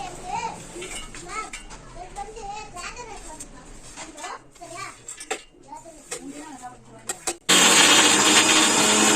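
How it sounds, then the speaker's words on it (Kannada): A mixer grinder blends garlic kebab masala for marinating fish, bursting on loud and steady at the end after a stretch of children chattering and household clatter. "ಮಿಕ್ಸಿಗೆ ಹಾಕಿ ಮಾಡೋಣ."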